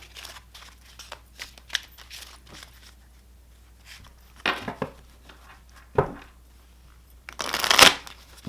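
A new Marshmallow Marseille tarot pip deck is shuffled by hand in quick riffling bursts and soft taps, ending in a louder, crisp riffle near the end.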